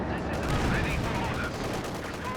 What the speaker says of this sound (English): Looks like Kurtz is going to set up his own MG42